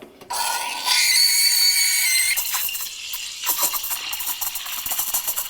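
A high, hissing screech of a steam wand frothing milk, loud and continuous at first, then settling into a softer, gurgling, sputtering hiss.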